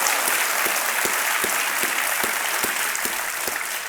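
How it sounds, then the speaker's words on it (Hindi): A television quiz show studio audience applauds steadily and loudly, welcoming a contestant to the hot seat, with no voices over the clapping. "बहुत बहुत तालियों के साथ इनका स्वागत किया जाए"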